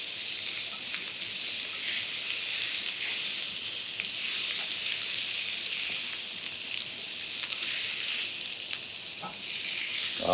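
Rump steak searing on a hot grill pan, a dense, loud, continuous sizzle with crackling fat that holds steady throughout and swells slightly at the end, with no talking.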